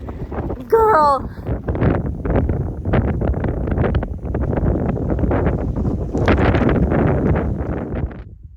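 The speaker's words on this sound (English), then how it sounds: "It was very windy today." Strong, gusty wind buffets the microphone on a desert hiking trail, a dense low rumble roaring steadily throughout while a person talks over it.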